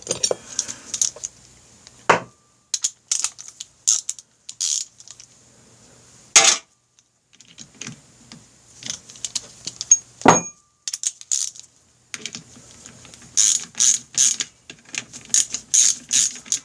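A hand ratchet with an extension works on the aluminum clutch cover bolts of a Honda Rebel 250 motorcycle, giving bursts of rapid clicking pawl ratcheting separated by pauses, with occasional metallic tool clinks, close and loud.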